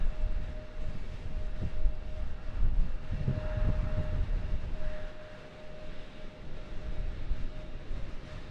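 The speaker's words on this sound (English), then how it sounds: "Oh yeah, the wind." Storm wind buffets an open spot at Raleigh-Durham International Airport, rolling in low rumbling gusts that swell and ease, with a faint steady hum running underneath.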